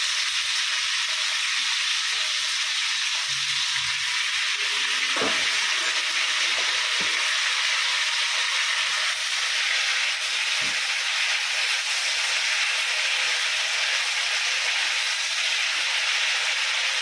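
Tomato pieces fry in a pan for chutney with a steady, close hiss and sizzle that holds evenly throughout, broken by a few faint stirring knocks.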